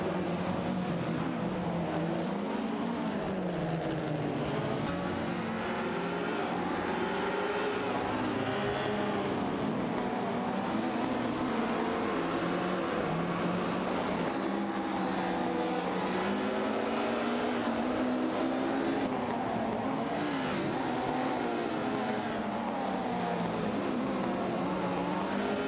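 Race cars speeding into a straightaway, a loud sustained engine roar with rising and falling pitch sweeps as several cars pass close together.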